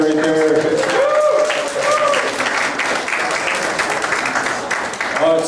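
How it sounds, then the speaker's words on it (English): A crowd at a live cannabis show claps for Jeff and Debbie, sustained applause at full strength for several seconds with cheering voices woven through it. "another round of applause for Jeff and Debbie right there"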